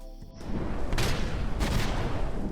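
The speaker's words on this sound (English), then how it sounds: "Explosion Overhaul is a VFX mod that dramatizes explosions in the game" Modded Minecraft explosions with dramatized effects: a burst of deep, rumbling booms with crackling blasts, one after another, staying loud and dense with low rumble throughout.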